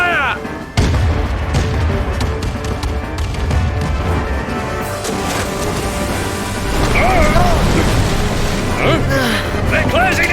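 Ship cannons booming in a pirate naval battle video game, with heavy blasts and crashing impacts over a dense, continuous din while voices shout and talk throughout.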